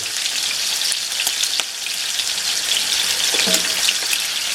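A rack of lamb sears in hot oil with a loud, constant sizzle and scattered spattering crackles. A couple of soft knocks come partway through.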